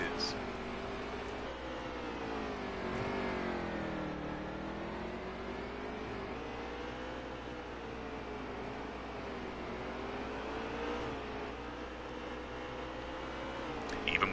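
Race car engines in NASCAR Heat 3 at Mid-Ohio drone and rise and fall steadily as the cars lap, with a voice talking faintly underneath.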